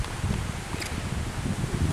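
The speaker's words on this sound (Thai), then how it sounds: "ตอนนี้มีฝนตกอยู่นะครับ" Steady outdoor rush of wind and rain in a national park, with low gusty buffeting against the microphone throughout.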